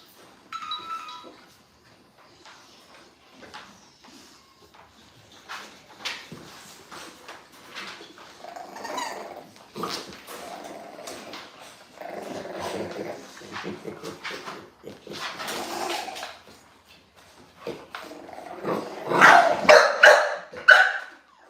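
American bully dogs bark in scattered bursts, some close and loud, with a louder cluster of barks near the end; a voice talks intermittently among them.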